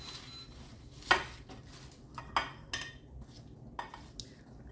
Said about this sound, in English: I'm going to go ahead and dig out the inside of the the bread bowl here